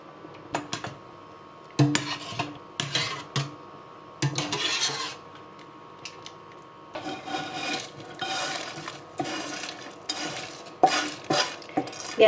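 Rice is stirred and roasted dry in a cooking pot, making repeated scraping, rasping strokes in uneven bursts with short pauses between them. The sound is close and fairly loud.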